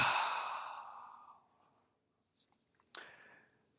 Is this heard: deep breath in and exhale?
yes